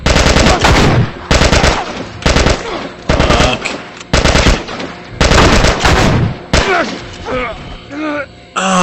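Bursts of rapid automatic gunfire from The Last of Us on PS3, loud and close, in several volleys separated by brief gaps, with scattered game sounds between them.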